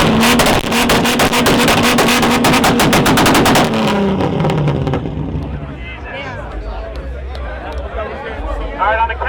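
A Mark 4 car engine revving hard at a car show on a drift track: a loud rapid-fire rattle for several seconds, then it drops into a rough lower rumble with crowd chatter and voices underneath.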